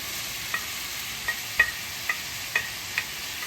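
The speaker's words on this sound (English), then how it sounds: "Hit it with my peppers." Peppers stir-fried in a pan for chow mein hiss with a faint continuous sizzle, punctuated by about six light, evenly spaced clicks of a utensil tossing them.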